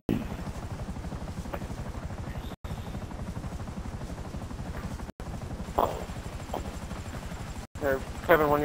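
Helicopter in GTA V, a steady rapid rotor chop throughout, loud and close, with brief dropouts and a few short in-game voice or effect sounds on top.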